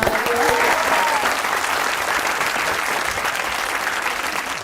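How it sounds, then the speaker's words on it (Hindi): Loud, dense studio audience applause on a comedy talk show, a continuous wash of many hands clapping that holds steady throughout, with a faint voice briefly audible near the start. "Thank you, well played. तालियां बजाइए।"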